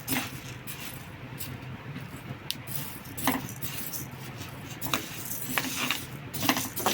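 Washed, dried horse gram roasting in a pan, with sharp scattered pops and clicks bursting irregularly over a low background rustle.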